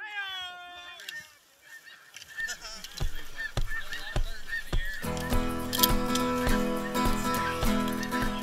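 Snow geese honk over decoys in a Kansas field. A few nearby calls open, then the sound swells into a dense, loud chorus of overlapping honks from a large flock.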